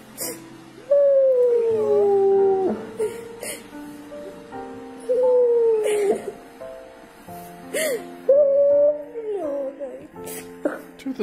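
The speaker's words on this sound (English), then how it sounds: "the dog's crying." A dog whines and howls in drawn-out, wavering cries, repeated several times with short pauses and some sharp noises between.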